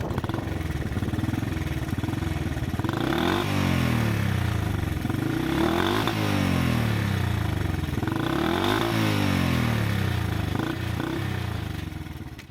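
A Honda S65 motorcycle engine runs close up and loud, with a rough, clattery idle that climbs in repeated revs and falls back, about three rising sweeps, with no talk over it.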